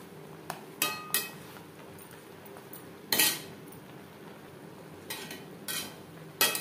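A utensil stirs kochur shak (taro leaf greens) cooked with chickpeas and coconut in a pan over a gas flame, giving a handful of sharp metallic clinks and scrapes spaced irregularly against a quiet background.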